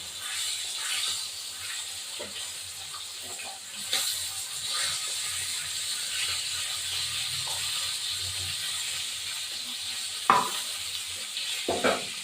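Pieces of rohu fish frying in a pan with oil, a steady close sizzle and hiss running throughout, broken by occasional scraping clicks of a utensil against the pan.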